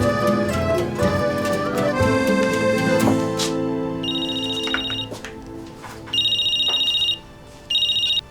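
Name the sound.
phone ringtone, incoming call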